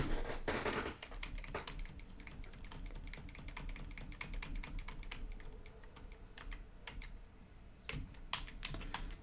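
Quick, irregular keystrokes on a computer keyboard, typed while coding the logic of an Android app, with a sharp burst near the start and steady clicking throughout, close and clear, with no talking.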